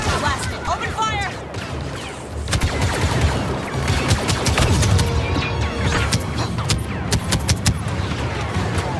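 Rapid blaster fire crackles in Star Wars Battlefront 2 on PS4, dense overlapping volleys of sharp energy shots and machine-gun-like bursts, loud and sustained throughout, with a short lull before the barrage intensifies and voices calling out over it.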